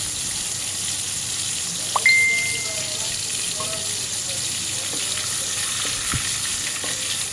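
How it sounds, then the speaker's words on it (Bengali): Large prawns fry in oil in a wok, a loud, even sizzle running steadily close up, broken by a brief metallic clink and a few soft knocks. "এখন চিংড়ি মাছটা ভেজে নিচ্ছি।"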